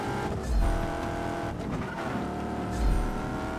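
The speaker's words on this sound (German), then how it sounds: "Geiler Sound vom Auto." A car's engine roars at full throttle in the video game Just Cause 3, a continuous loud drive with rising and falling revs and a couple of brief tire-squeal bursts.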